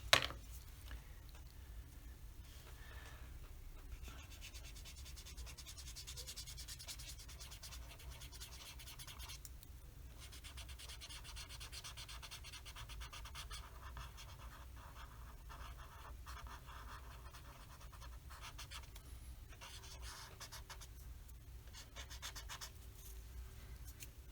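Prismacolor colored pencils blend across paper in soft, close scratchy strokes, faint and repeated with brief pauses between passes.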